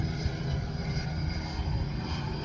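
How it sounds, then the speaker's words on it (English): A helicopter passes overhead, a continuous engine and rotor rumble that stays fairly loud and even throughout, with no talk. "a helicopter flying over me"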